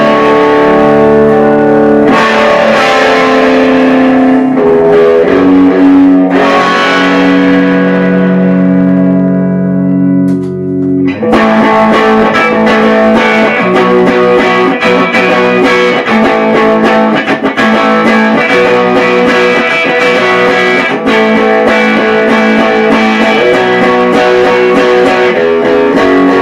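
Electric guitar played through a 1966 Fender Deluxe amp with heavy reverb, sustained chords blooming into long washy tails, then a stop and a busier strummed passage with bright echoing decay.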